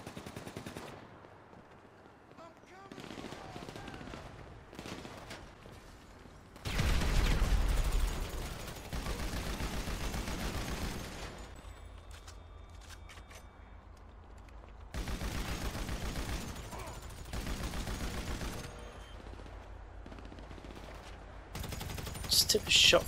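GTA V gunfire rattles in loud bursts of rapid automatic shots, several sustained volleys separated by quieter stretches, with players talking over the game sound.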